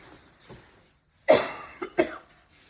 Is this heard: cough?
yes